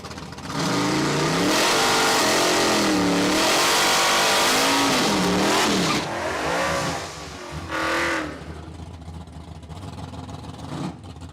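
A 1980 Chevrolet Camaro and a 2022 Ford Mustang Mach 1 drag racing at a raceway, engines revving hard and wailing through repeated gear changes, loud then fading as the cars pull away.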